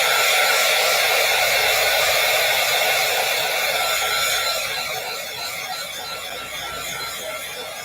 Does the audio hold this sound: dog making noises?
no